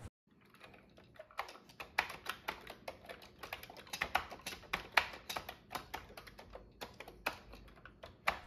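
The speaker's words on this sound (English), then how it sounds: "Let's get typing." Rapid typing on a Commodore 64 keyboard, a steady run of close, crisp key clicks with irregular rhythm and occasional louder strokes, no voices.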